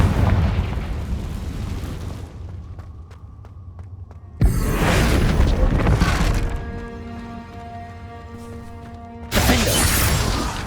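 Confringo fire spell explosions in the Hogwarts Legacy video game: two loud, broadband blasts burst in several seconds apart over a low rumble and sustained game music tones.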